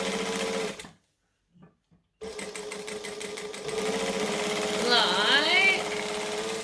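A sewing machine quilting lines runs in a steady mechanical whir, stops briefly for about a second, then resumes and speeds up, with a person talking over it.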